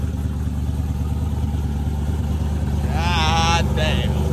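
A Box Chevy Chevrolet car's engine runs in a steady, loud low rumble throughout, with a brief higher whine-like sweep near the end.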